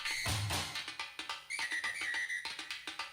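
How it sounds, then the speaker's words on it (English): A short whistled melody from the video game Katamari Damacy REROLL, bright and close, with sustained tune notes over light plucky musical accompaniment, heard alone without speech. "As like a little whistle song goes on"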